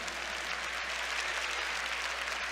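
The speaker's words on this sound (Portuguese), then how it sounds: "Aplauda mais uma vez o seu pároco." A church congregation applauds its parish priest during a Portuguese-language service, a soft, even wash of clapping that stays steady and fairly faint throughout.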